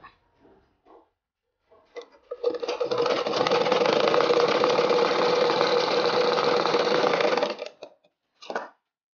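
An electric sewing machine runs a steady continuous stitch on umbrella frock fabric for about five seconds, a loud close whirring hum, with short starts and stops before and after.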